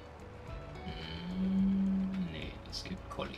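Cow mooing in the farming video game Farming Simulator 22, a single drawn-out low moo at moderate distance amid faint ambient farm sounds.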